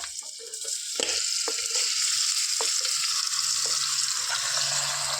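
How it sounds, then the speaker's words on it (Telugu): One kilogram of cleaned mutton dropped into hot oil, the sizzle jumping to a loud, dense, continuous hiss after a second of quieter frying, close up, with a few stirring knocks. "ఆయిల్ హీట్ అయ్యాక దీంట్లో నేను ఒక వన్ కేజీ మటన్ క్లీన్ చేసి పెట్టుకున్నాను ఫ్రెండ్స్ ఇది ఇందులో వేసుకుంటా"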